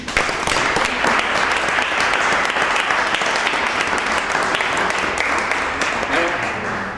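A large audience claps and applauds at a Miss France public appearance in Saverne, dense and sustained throughout, with some voices mixed into the crowd.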